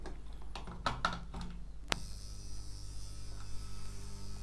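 A homemade transformer for a Tesla coil power supply, plugged in, drones with a steady low electrical hum after a sharp click, with a few clicks and rattles just before it starts.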